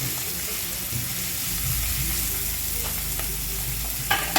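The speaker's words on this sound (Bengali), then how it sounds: "ধীরে ধীরে আমি ভেজে নিচ্ছি পেঁয়াজ কুচিলা হালকা করে।" Chopped onions sizzle steadily as they fry in oil in a pan, with a continuous close crackle, occasional stirring scrapes and a brief clatter near the end.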